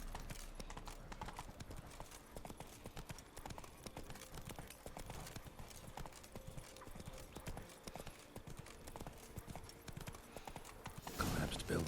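Roach, the horse in The Witcher 3, gallops with rapid rhythmic clip-clop hoofbeats throughout, fairly faint, with a brief louder burst near the end.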